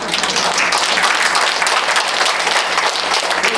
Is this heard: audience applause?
yes